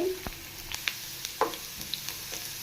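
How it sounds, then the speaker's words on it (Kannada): Garlic frying in a couple of spoons of oil in a pan, a soft low sizzle with scattered small pops and utensil clicks, close and fairly quiet, no talking. "ಬೆಳ್ಳುಳ್ಳಿ ಹಾಕ್ಕೊಳ್ತಾ ಇದ್ದೀನಿ ಚೆನ್ನಾಗಿ ಫ್ರೈ ಮಾಡ್ಕೋಬೇಕು ಬೆಳ್ಳುಳ್ಳಿ"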